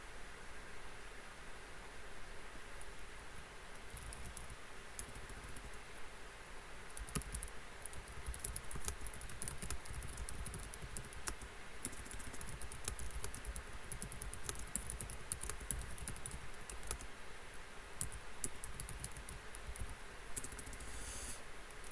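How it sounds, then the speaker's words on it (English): Soft, rapid keyboard typing during an online chat in a virtual-world community meeting, a steady patter of faint clicks over low background hiss, with no voices. "I'm just typing in the chat"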